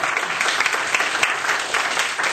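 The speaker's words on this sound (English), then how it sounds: "Give a clap to him." Audience applause fills a conference hall at an innovation-sharing event, steady dense clapping from a crowd heard close and loud throughout, with no voices over it.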